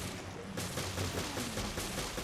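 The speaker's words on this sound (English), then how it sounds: "And now I'm moving to my machine gun" Rapid machine gun fire from Resident Evil Revelations Trench Raid mode, a dense continuous stream of shots with a sharp rise partway through.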